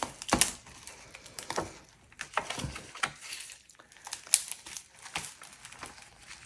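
A dried glue-resin fish is peeled off a surface in a close, quiet series of crinkling, crackling tears and sticky snaps, coming in irregular bursts with short pauses between pulls.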